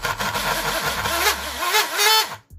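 A brushless RC boat motor on a 2S battery whines and revs up and down in pitch, loud and close, cutting off abruptly near the end.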